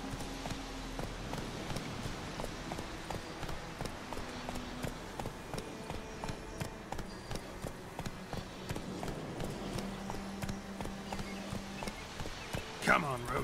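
A horse's hooves clip-clop in a steady, rapid rhythm as it gallops in the video game The Witcher 3: Wild Hunt, with faint tones and rustles in the background.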